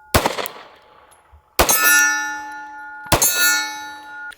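Three sharp 9mm shots from a standard Springfield Hellcat pistol with an 11-round magazine, spaced about one and a half seconds apart, each answered by a bright metallic clang and lingering ring from a steel target.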